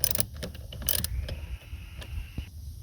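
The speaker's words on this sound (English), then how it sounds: "10mm socket will get the cables loose." A 10mm socket ratchet loosens car battery cable clamps, giving a few close, brief metallic clicks and creaks amid light handling noise, with no talking.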